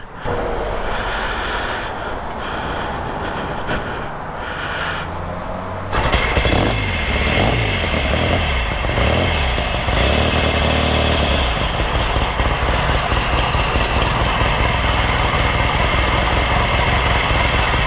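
A 1963 Royal Enfield Interceptor, a vintage British motorcycle, fires up and settles into a loud, steady idle, running continuously up close after a quieter lead-in of mechanical noise.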